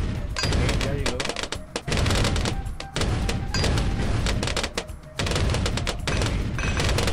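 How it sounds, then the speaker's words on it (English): Mortar tower firing in Bloons TD 5, a dense, continuous barrage of thumping shots and popping bursts with brief gaps, loud throughout and mixed with other game sounds. "So we have a mortar right now."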